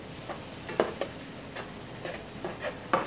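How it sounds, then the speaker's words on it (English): Herb and heavy cream sauce with a pat of butter melting in a pan, gently bubbling and sizzling with soft stirring scrapes and light clinks, close and moderately quiet. "our sauce mixture has started to bubble"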